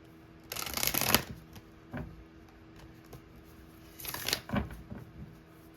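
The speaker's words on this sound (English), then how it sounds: "I'm going to shuffle these cards a bit." Tarot cards being shuffled by hand, two distinct riffling bursts about three seconds apart, close and crisp, with soft taps and handling noises between them in a quiet room.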